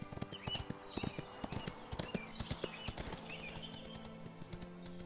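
A horse's hooves clip-clop unevenly in the Ostwind video game, with crisp, fairly close hoofbeats over a soft ambient backdrop with faint chirping tones.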